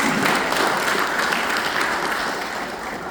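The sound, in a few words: congregation applauding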